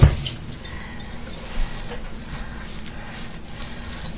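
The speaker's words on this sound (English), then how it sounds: "Okay, I want to wet my hands a little." Tap water runs steadily into a kitchen sink as hands are wetted while making Salisbury steak patties, a soft continuous trickle with a brief splash near the start.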